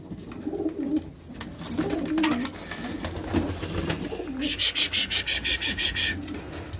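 Pigeons in a pigeon shop coo softly in low, murmuring calls, followed by a quick rhythmic fluttering rasp near the end, at close range.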